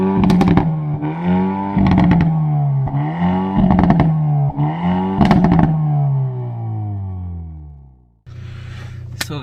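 A 2022 Hyundai i30N hot hatch accelerates hard, its engine note climbing in several rising sweeps broken by quick gear changes, loud and close, before a brief cut and a rougher burst at the end.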